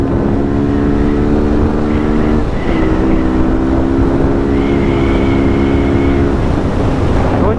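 A fully modified Yamaha R15 v2 motorcycle engine revs loud and close, a steady buzzing drone that shifts pitch partway through and holds without any voices.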